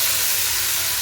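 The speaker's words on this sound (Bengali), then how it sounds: "এখানে পেঁয়াজ ভাজা হচ্ছে," Onions frying in a home kitchen pan, a steady broadband sizzle and hiss that stays constant and fairly loud for about a second, with no voices.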